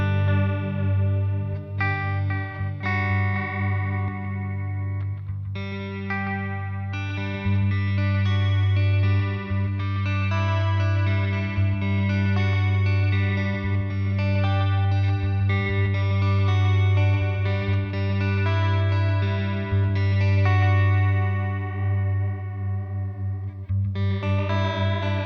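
Electric guitar run through a PastFx Echo 600 echo pedal, giving a heavily chorused, wobbling tone over a steady sustained low note, with loud picked chords and notes ringing on continuously, no voices.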